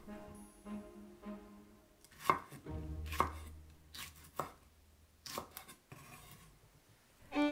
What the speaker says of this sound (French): Je coupe l'oignon en fines tranches. J'émince le piment.